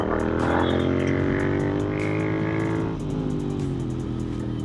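Orange Royal Enfield Interceptor motorcycle with tuning, its engine revving hard and steady above idle, loud and close, then the pitch dropping slightly as the throttle eases.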